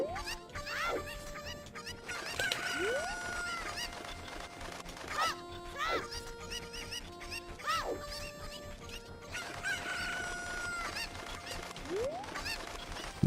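Chickens calling in a yard, with repeated squawks and rising, honking clucks spread through the stretch, fairly close and loud over a steady background rumble, with no talking.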